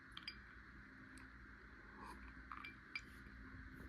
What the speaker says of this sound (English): I typically put 2 ice cubes in there for the sound